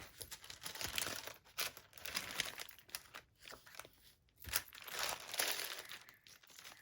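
Quiet, close crinkling and rustling of stiff wax-like vintage paper being handled, in uneven bursts with brief pauses.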